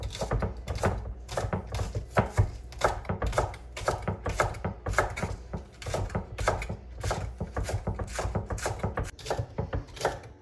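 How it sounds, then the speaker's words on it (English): A knife dices green onions on a cutting board in a home kitchen, a fast, steady run of sharp chopping taps lasting throughout, close and fairly loud with no voices. "So I'm dicing the onions now."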